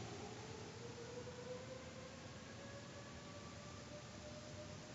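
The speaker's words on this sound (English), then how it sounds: "Sirens." Faint, distant sirens wail with slowly rising tones, buried in a steady wash of background noise and continuing for several seconds.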